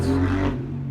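A motorcycle revs outside a knife-making shop, a loud close engine roar with a rough, buzzing tone that sounds for about half a second and then quickly drops away.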